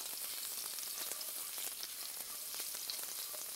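Mustard seeds with chopped ginger in hot oil, a faint continuous frying crackle with dense tiny pops, heard alone without voices.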